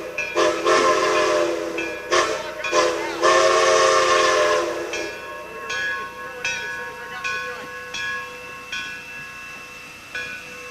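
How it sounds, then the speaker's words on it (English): A steam train from the Mount Rainier scenic railroad arrives at a station. Loud whistle blasts sound in several bursts, followed by ringing bell strokes and rail clatter that slowly fade. "Meanwhile, the train has reached New Orleans."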